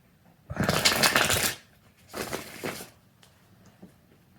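Two quick bursts of cards being riffle-shuffled close by, the first longer than the second, followed by quiet.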